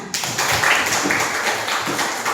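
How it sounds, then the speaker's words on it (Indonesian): Children applauding together in a primary school classroom, a brisk, close wash of many hands clapping that holds steady for a couple of seconds. "Tepuk tangan."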